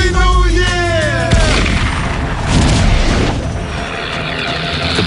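A gunshot fired into the air at midnight during a New Year's countdown, heard as a loud boom that breaks through cheering and festive noise, followed by a dense, sustained rumble of celebration.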